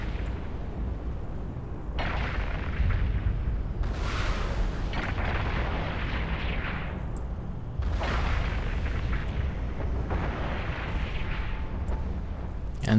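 Ship weapons in Eve Online unload on enemies in repeated booming volleys, each burst rumbling out over a constant low space-combat drone, with brief gaps between salvos.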